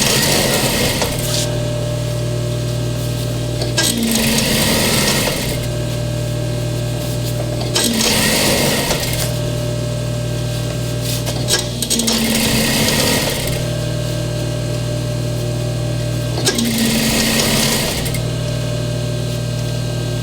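A sewing machine runs in long steady bursts, stitching custom trim for an upholstered ottoman, its loud mechanical hum broken by brief pauses between runs.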